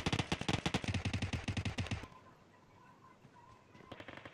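Rapid automatic gunfire in the PUBG Mobile video game rattles loudly in dense bursts for about two seconds, then gives way to quieter in-game ambience.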